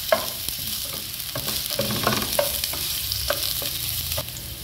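Ginger browns in oil in a pan, hissing with a steady sizzle while a utensil scrapes and taps at irregular intervals, close and moderately loud.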